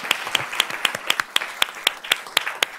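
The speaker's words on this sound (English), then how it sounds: "Let's give her a round of applause" Applause at a board of trustees meeting honoring a student golfer, a small group clapping in a steady even rhythm, close and distinct individual claps without talk.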